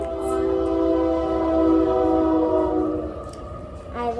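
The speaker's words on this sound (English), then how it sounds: "And here comes a train." A passing train sounds its horn in a long, loud, sustained tonal blast that swells and then fades toward the end, over a low rumble.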